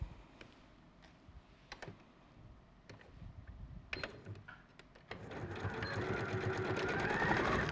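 A sewing machine runs a straight stitch along a centimetre seam allowance, starting with scattered short clicks and taps before the motor settles into a steady, louder whirring run for the last few seconds.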